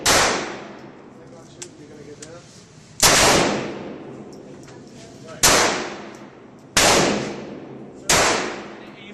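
A Ruger Mk. II pistol in .22 LR fires five sharp, loud shots at irregular intervals at close range, each one followed by a short ringing decay.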